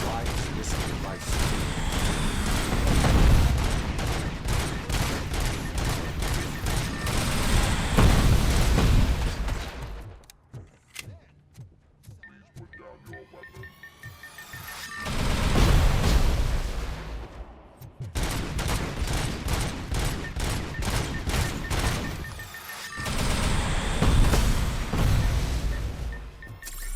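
ED-209 fires rockets in Robocop Rogue City, setting off heavy bursts of gunfire and booming explosions that come in loud waves with a quieter stretch midway, while voices talk faintly over the battle.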